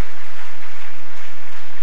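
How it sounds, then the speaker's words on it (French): A church congregation applauds during a consecration service, producing a dense, continuous wash of clapping that is loud and unbroken for under two seconds, with no voices standing out. "Est-ce que tu peux applaudir le Seigneur très fort? Can you clap for the Lord?"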